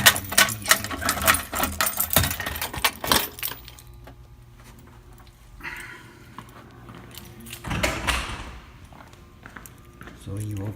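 Keys jangle in bursts of metallic clinks near a management office door while someone talks over them, followed by quieter shuffling and handling sounds.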